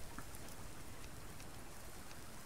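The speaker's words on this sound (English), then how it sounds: "It might be rain." Steady rain in the video game Subsistence, an even, dense patter of drops on surfaces that stays constant throughout, with no voices.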